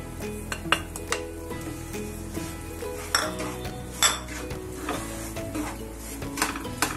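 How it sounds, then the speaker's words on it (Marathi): Wheat flour being roasted in ghee in a pan, with a soft continuous sizzle under repeated scraping and clinking of a spoon against the metal pan, close and fairly loud, no talking. "आता आपण हे कणिक ही भाजून घेऊया."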